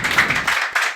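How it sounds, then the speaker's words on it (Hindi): Studio audience applause for a contestant on a Hindi quiz show, a short burst of clapping with rhythmic taps that swells and fades within a second. "जोरदार तालियां अमित जी के लिए।"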